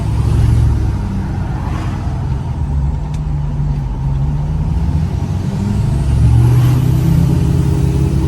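A car on its last drive before being sold gives a continuous low engine rumble and road noise from inside, loud and steady throughout, with no voices.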